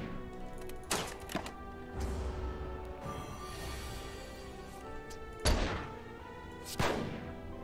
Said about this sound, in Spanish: Me encanta el sonido de los disparos